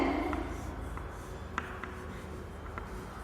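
Chalk or marker scratching on a classroom board during a primary-school English grammar lesson, a few soft taps and strokes close by over low room noise.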